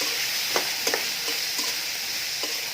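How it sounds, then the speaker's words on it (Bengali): Dried fish frying with onions in a pan for a Bengali vegetable chorchori, a steady sizzle with a few light clinks of stirring, close and alone. "শুটকি শুকিয়ে একটু ভেজে নিব পেঁয়াজের সাথে"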